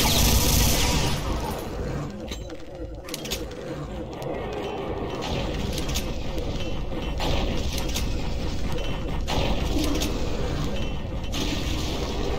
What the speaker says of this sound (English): That's so much explosion!